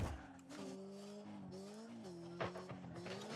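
Car tires skidding and squealing in a racing video game, with the engine note sliding up and down under a continuous loud screech and a brief jolt near the end.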